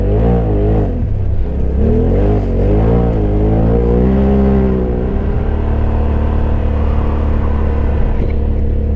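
A Polaris RZR side-by-side's engine runs loud and close on a muddy race lap, its steady drone rising and falling in pitch with throttle.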